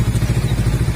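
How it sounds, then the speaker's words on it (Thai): A 2020 Honda CBR500R with about 10,800 km idles loudly and close by at a roadside shop. Its engine gives a steady, rhythmic low throb with slight clattering pulses throughout a brief moment. "ฟังเสียงเครื่องยนต์กันนะครับ"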